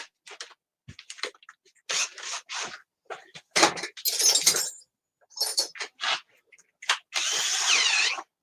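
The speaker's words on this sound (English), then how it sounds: "I might even have to drill a little hole in that" Short bursts of a power drill whirring close up, stopping and starting in an uneven rhythm, with scraping and knocking between them.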